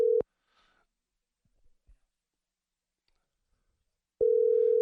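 Outgoing call ringback tone on a telephone, two loud steady tone bursts, one at the start and one at the end, separated by near silence.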